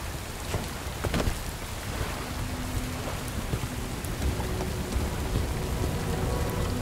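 Steady, dense rain in the video game Bright Memory: Infinite, a loud continuous hiss of falling drops and pattering on surfaces, with faint low rumbles like distant thunder, close and constant throughout, no voices.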